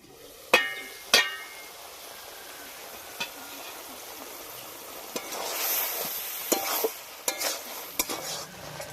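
Prawn and banana stem curry cooking in a pan, with a soft steady sizzle under sharp metallic clatters of a spoon or lid striking the pan at irregular intervals, fairly close.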